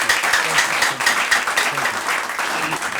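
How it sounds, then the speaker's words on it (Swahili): An audience at a Kenyan comedy show claps steadily for about three seconds, a dense, bright patter of many hands at an even level throughout. "Wapi makofi ya Nyambane?"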